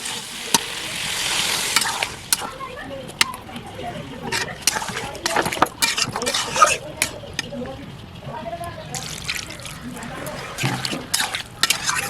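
Spiced masala sizzling and being stirred in a pan as water goes in for a fish curry, with bursts of hissing, repeated scraping of a spoon and clinks against the metal pan, fairly loud and close.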